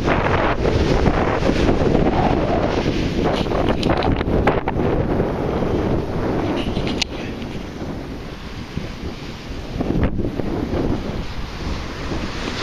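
Strong, steady wind buffeting a microphone outdoors on a windy day, a continuous heavy roar with gusty rumble and faint surf-like wash underneath, no talking.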